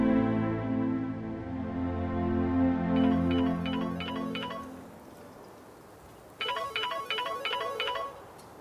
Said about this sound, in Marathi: कालपासून फोन करते नंदा.